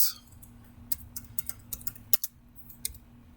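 Typing on a computer keyboard while writing Python code, a string of sharp, fairly close key clicks in an uneven rhythm over a low steady hum, with no voice.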